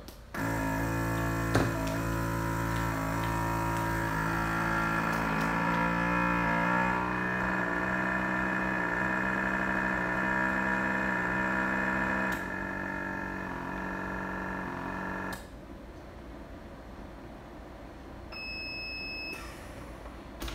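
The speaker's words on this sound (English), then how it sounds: "vacuum sealer." A vacuum sealer runs with a steady mechanical hum and strong tonal whine for about fifteen seconds, then drops to a quieter motor drone before stopping.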